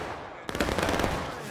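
Musket volley fire in the War of Rights battle game: after a quiet moment, a sudden loud burst of overlapping shots erupts and rolls on as a dense crackle of gunfire.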